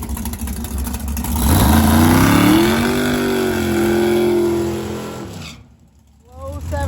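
A drag racing car launches and makes its first pass down the strip, its engine roaring loud and rising in pitch for several seconds before cutting off abruptly, with quieter background noise after.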